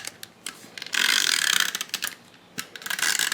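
A Stampin' Up Snail adhesive tape runner is pulled across cardstock, giving a dry ratcheting, clicking rasp in a few short bursts with brief pauses, close and fairly quiet, with no talking.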